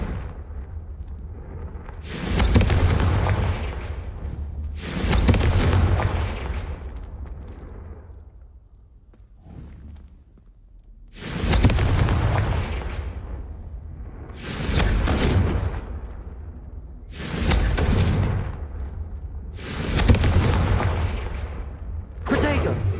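Confringo blasting spells explode in Hogwarts Legacy, seven loud booming blasts spaced a few seconds apart, each with a sharp onset and a rumbling decay.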